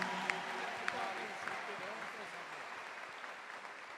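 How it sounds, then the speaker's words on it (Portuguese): Audience applause in a church gathering honoring a Vatican nuncio and the bishop of the Diocese of Lorena, a steady, moderate wash of clapping that holds throughout, slightly distant, with a few sharper claps standing out early on. "Uma salva de palmas a eles"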